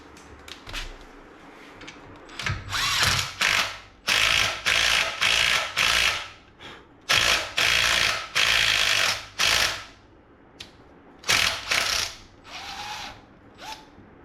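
A thread tap works through the threads on an exhaust part for a 1932 Roadster, making repeated bursts of sharp mechanical ratcheting and grinding, close and loud, with short pauses between strokes.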